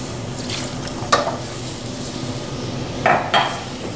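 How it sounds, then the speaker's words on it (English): Milk is stirred into a roux in a pot on the stove: a steady, soft scraping of the stirrer with a few sharp clinks against the pot, and no talking. "Let's go ahead and add about a cup of milk to this roux."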